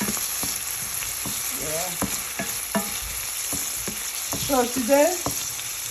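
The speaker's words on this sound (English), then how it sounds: "So I'm gonna stir. It's sizzling, boiling hot here." Wild vegetables and egg sizzle steadily in a hot pan while being stirred, with repeated sharp scrapes and clacks of the utensil against the pan, close and fairly loud, and a brief voice at the start.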